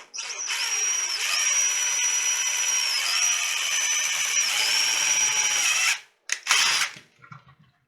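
A power drill with a 1/8 inch bit drilling a pilot hole in plastic whines steadily at high speed for about six seconds, pitch dipping briefly under load, then stops with a few short clattering bursts.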